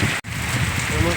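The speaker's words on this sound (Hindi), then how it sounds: "रास्ते में चलते चलते बारिश आ गया" Rain comes down steadily on a roadside route in the open, a dense, loud hiss of falling drops that briefly cuts out once, with a voice faintly underneath.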